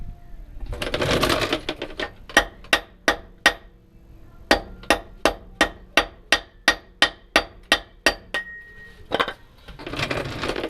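A wheel nut key taps a rear differential seal into a Land Rover Discovery axle, giving a run of about fifteen sharp metallic knocks at a steady rhythm, close and loud, with some handling noise before and after.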